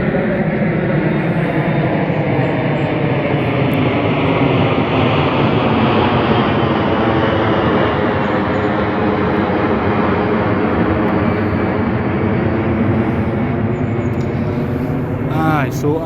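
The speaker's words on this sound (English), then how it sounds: "There's another plane." A loud jet airplane roars continuously overhead on a Northumberland nature trail, its pitch sweeping slowly as it passes, dominating everything else for the whole stretch.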